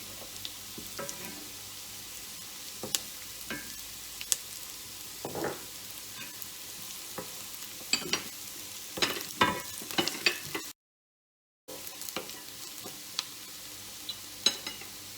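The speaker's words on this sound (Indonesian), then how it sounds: "saya menumis bawang merah, bawang bombay, dan bawang putih" Shallots, onion and garlic stir-fry in hot oil with a quiet, even sizzle broken by frequent spatula taps and scrapes against the pan, plus a brief dropout of silence partway through.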